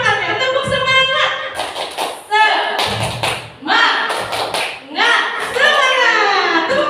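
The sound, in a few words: group doing a rhythmic 'tepuk semangat' clapping chant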